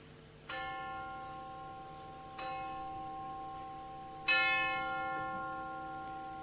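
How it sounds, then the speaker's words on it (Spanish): A church clock bell in Seville strikes three times at even intervals. Each clear, resonant stroke rings out and hangs on before the next, and the final strike is the loudest. "Acaban de dar las 3 en el reloj,"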